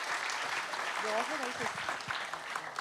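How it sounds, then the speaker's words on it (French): Audience applause in a conference hall after a talk on AI, data centers and the environment, a steady wash of clapping with a few voices murmuring and speaking over it. "On aurait presque envie de vous applaudir."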